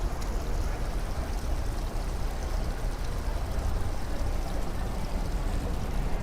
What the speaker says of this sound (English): let me know if you guys could hear the water too